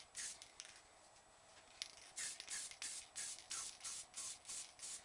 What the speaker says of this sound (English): Just going to spray some on the edges there.